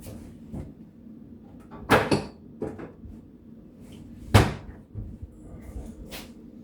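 Plates clattering and knocking as air-fried food is served, a few separate sharp clunks spaced several seconds apart over a quiet room.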